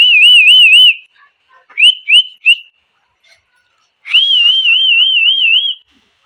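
A person blows a shrill trilling whistle at feeding time, a long warbling blast, then several short chirps, then another long wavering blast, loud and close, with quiet gaps between.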